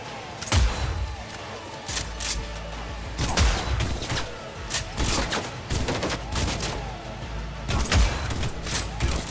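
Gunfire in the video game Cyberpunk 2077 on PS4: repeated heavy volleys of shots and booming impacts, loud and continuous throughout, with thuds between the bursts.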